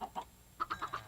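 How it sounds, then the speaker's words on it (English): Chickens clucking in the Minecraft video game with the Tekkit modpack, penned in a coop: two soft clucks followed by four brighter, closer clucks in a quick even rhythm, with no talk. "I've got so many seeds I may as well breed some chickens here"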